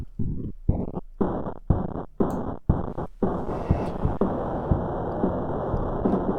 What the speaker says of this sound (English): Now we have a brighter fake gated reverb.